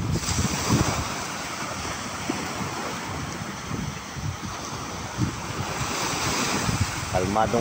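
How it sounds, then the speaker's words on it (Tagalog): Gentle, calm sea waves wash and lap continuously at Pinipin, Santa Cruz, Ilocos Sur, during overnight fishing, with wind buffeting the microphone, steady and moderately loud. "Kalmadong dagat guys."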